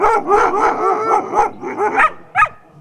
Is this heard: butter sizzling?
no